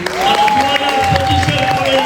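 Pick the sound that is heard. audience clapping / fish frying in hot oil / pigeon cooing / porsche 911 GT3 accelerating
audience clapping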